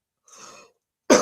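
Two short, close coughs, a softer raspy one followed after a pause by a sharper, louder burst, in otherwise silent surroundings.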